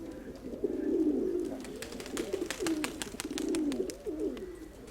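Soft, repeated cooing of pigeons nesting on eggs close by, low rolling coos in a slow rhythm with faint background clicks.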